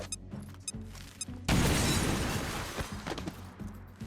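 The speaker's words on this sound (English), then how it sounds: "Then kill this guy with a grenade. Frag out." A frag grenade goes off in XCOM: Chimera Squad, a sudden loud blast followed by a dense, crackling, debris-filled roar that trails off over a few seconds, with game sounds before and after.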